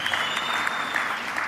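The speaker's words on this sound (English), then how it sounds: "Now that deserves a round of applause." A Freedom Day political rally crowd in KwaZulu-Natal breaks into applause for a Democratic Alliance leader, a dense, loud wash of clapping heard for just over a second, steady and unbroken with a faint tonal whine running beneath it.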